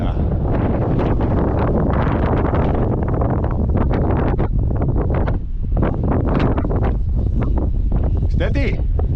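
Loud, constant wind buffeting and rumbling across an onboard camera microphone on an E-flite Extra 300 RC plane flying in rainy, windy weather, roaring steadily throughout with no clear speech.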